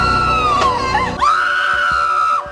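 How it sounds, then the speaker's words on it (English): A single sustained, shrill scream from a horror-themed sitcom scene, rising and holding steady for about two seconds at close range before cutting off abruptly. "To scream when the lights come on takes away from the first scream."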